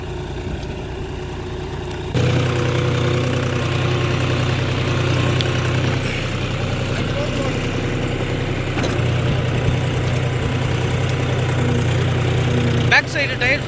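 A John Deere 5050D tractor pulls a 5 tyne cultivator across a field, its engine holding a steady, loud, low drone close by with a brief change near the end, with someone talking over it.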